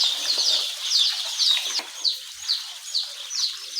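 Baby chicks in a brooder holding 700 birds, peeping in rapid, repeated high chirps that overlap steadily and close by, with no talking.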